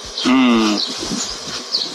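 A honeybee swarm passing through a garden, bees fanning with a close, droning buzz that swells briefly and then settles into a softer hum.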